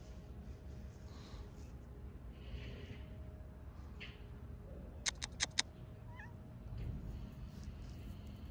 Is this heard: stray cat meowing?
yes